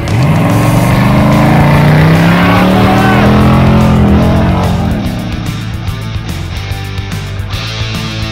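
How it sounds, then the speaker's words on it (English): Prerunner trucks launch in a drag race, engines roaring loudly and climbing through the revs before backing off and fading as they pull away. "Drag race."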